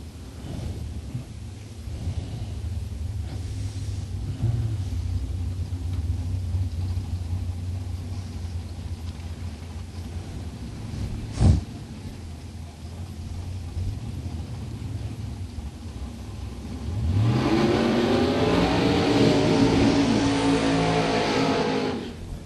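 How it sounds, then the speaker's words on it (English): Drag racing car at a Super Pro event rolling off the throttle at the finish line, heard as a fading distant rumble, then a sharp bang and a louder engine rising near the end. "130 mile per hour for Lambton, rolling out of the throttle before the finish line."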